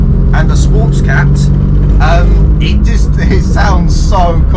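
A Ford Fiesta ST on a Revo Stage 2 tune, running a 3-inch side exit exhaust with a small silencer and sports cat, rumbles loudly and continuously while a person talks over it.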